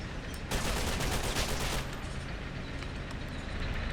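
Dense overlapping gunfire in the Men of War strategy game, a continuous crackle of rapid shots with heavier bursts early on, sustained and fairly loud without any talk.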